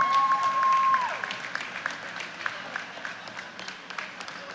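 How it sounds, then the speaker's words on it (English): Crowd applause at a Guyana versus Barbados men's cricket match, moderate and somewhat distant, with scattered claps rising over a murmuring crowd after a brief whistle-like tone at the start. "Give them a round of applause, ladies and gentlemen."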